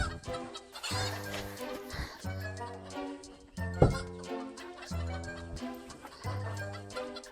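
Chickens cluck repeatedly, a series of close, choppy bursts with a short squawk in the middle, continuing throughout.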